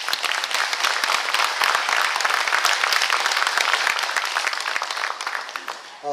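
An audience at a public briefing on the Gangwon Special Self-Governing Province in a Yeongwol arts hall gives sustained, dense applause that fades slightly toward the end.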